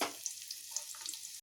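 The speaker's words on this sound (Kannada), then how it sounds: "ಈರುಳ್ಳಿ ಸ್ವಲ್ಪ ಫ್ರೈ ಆಗಲಿ." Half an onion frying in hot oil in a pan makes a soft, steady sizzle with light crackles, faint and brief.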